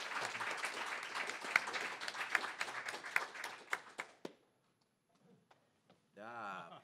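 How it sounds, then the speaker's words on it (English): An audience at a university faculty council meeting claps in a brief burst that fades out after about four seconds, followed by near silence and then a voice speaking. "I heard the clapping."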